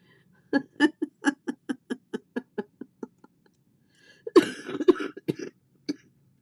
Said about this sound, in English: I haven't been coughing as much.